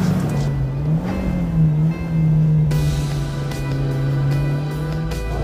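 A 1980 Renault 5 Turbo engine drones steadily while the car is driven, a loud continuous note that rises and dips slightly as the revs change, with no talking.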